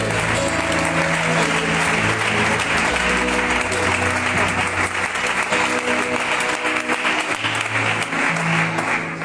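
A church congregation claps loudly and continuously, a dense steady wash of applause with music or voices faintly beneath it.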